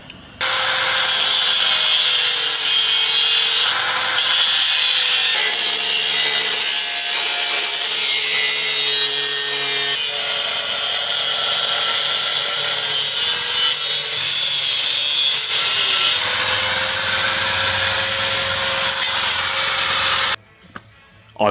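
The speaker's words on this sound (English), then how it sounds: "Got the grinder out this time." An angle grinder cuts up a rusted Toyota Hilux panel with a loud, continuous, close-up abrasive whine and rasp that holds for about twenty seconds and then cuts off abruptly.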